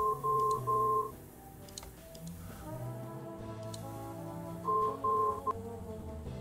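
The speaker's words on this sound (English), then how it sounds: "It was my cell phone." A cell phone ringing inside a laundry hamper in the adventure game Resonance: two bursts of an electronic ring tone, separated by several seconds of quieter, tonal game ambience.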